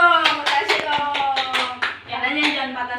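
A classroom of fifth-grade primary pupils claps together in a quick, uneven burst of hand claps lasting a few seconds, close and fairly loud, with children's voices mixed in.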